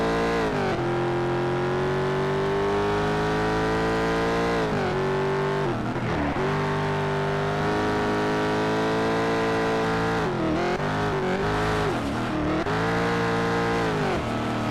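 Race car engine in Need for Speed Shift 2 on a Catalonia-style circuit, a loud sustained harmonic drone that climbs through gears with brief drops and shifts, rising and falling steadily throughout without speech.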